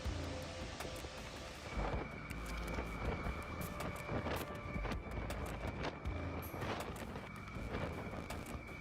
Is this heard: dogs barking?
no